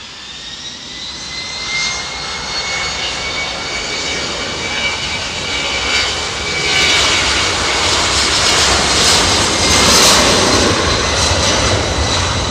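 Engines of a freighter jet at East Midlands Airport spool up as it rolls out for takeoff at night, a loud, steady roar with a high whine that grows stronger toward the end, and no clear talk over it.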